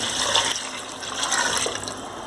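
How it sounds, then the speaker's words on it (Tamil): Water is poured into a pot of sautéed onions, mint and coriander for chicken biryani, a continuous splashing rush with a fuller surge midway, close and fairly loud, with no voices. "இப்போ தண்ணி எடுத்து ஊற்றிடுறேன்."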